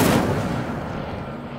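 A fiery burst from the Incendio fire spell in Hogwarts Legacy, a single sharp blast up front that trails off into a rumbling, crackling roar over about a second and a half, with no talking.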